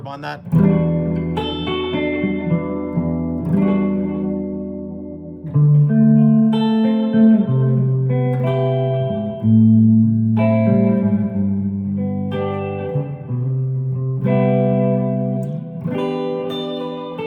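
An electric guitar through a NUX Space Echo tape echo pedal, modeled on the Roland RE-201, with added reverb, plays sustained notes and chords drenched in echo and reverb, repeats trailing off behind each phrase, loud and close.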